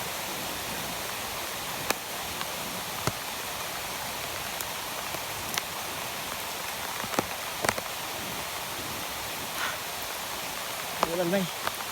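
Heavy rain pours down in a dense, steady hiss with scattered sharper drop impacts throughout, loud and close, and a short voice sounds near the end.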